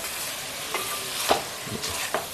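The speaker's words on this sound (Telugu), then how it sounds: "మటన్ వేసాం కదా, కొంచెం అటు ఇటు తిప్పుకోవాలి." Mutton and onion fry in oil with a soft, continuous sizzle, broken by a few scraping strokes as the pieces are stirred and turned.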